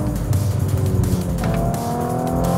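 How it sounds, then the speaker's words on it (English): Audi RS4 Avant with its V6 engine pulling steadily while driving, a loud continuous engine drone and exhaust note with rising pitch through acceleration and a gear change partway through, close and alone. "Lovely little blip of the throttle on the downshifts, a little bit of a fart out of the exhaust on the upshifts."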